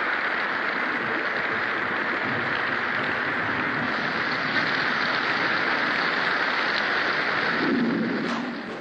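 Steady rain falls in a continuous dense hiss, even and fairly loud throughout, with a faint low rumble near the end and no voices.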